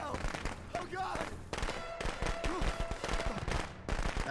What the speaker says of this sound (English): That's a waste of 2 fireworks.